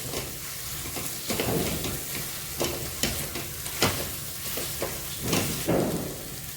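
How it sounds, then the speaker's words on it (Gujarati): Tawa pulao masala sizzling on a hot street-style tawa while a flat pav bhaji spatula stirs and scrapes it, giving a steady close frying hiss broken by repeated metallic scraping strokes. "પાવભાજીના ચમચાથી આપણે હવે થોડું મિક્સ કરી દઈશું।"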